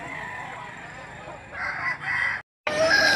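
Chickens cluck and a rooster crows amid a busy outdoor livestock auction market in Lipa City, Batangas, with brief silence then more bird calls and background chatter.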